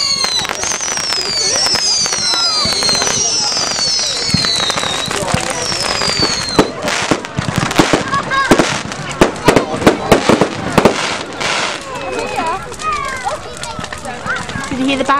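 Bonfire Night fireworks whistle and pop outdoors, rising whistles early followed by a loud cluster of bangs and crackling bursts, with people talking throughout.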